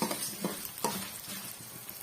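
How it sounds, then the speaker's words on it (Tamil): Lentils and spices sauté in oil on a medium flame for a chutney, giving a soft continuous sizzle broken by scraping stir strokes, close and fairly quiet. "மீடியமான ஃப்ளேம்ல வச்சு வதக்கி விட்டுக்கலாம்"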